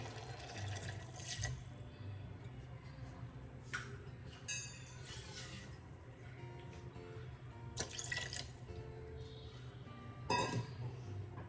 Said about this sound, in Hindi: इसमें मैं और थोड़ा पानी डाल दूंगी।